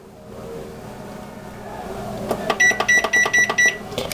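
A kitchen oven timer being set for baking meatloaf, giving a run of about seven short, evenly spaced electronic beeps near the end, close and clear over faint room hum.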